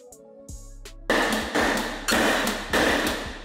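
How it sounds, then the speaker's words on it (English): A hammer drives nails into a wooden window trim board, with a few light taps followed by three loud, evenly spaced ringing blows close by. "then nailed it in place."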